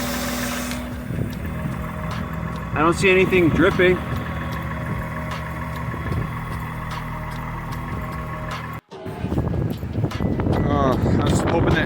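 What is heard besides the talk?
car engine idling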